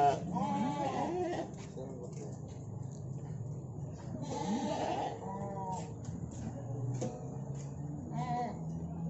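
Sheep and goats bleat repeatedly at a livestock market selling breeding rams, with several calls overlapping against a steady crowd murmur and background chatter.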